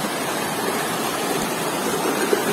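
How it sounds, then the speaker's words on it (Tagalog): Pangabitkabiton Falls, a waterfall in San Jose, Jamindan, Capiz, roaring in a steady, dense, unbroken rush of white noise that holds evenly loud throughout, with no voices. "tanaw na natin yung Pangabitkabiton Falls"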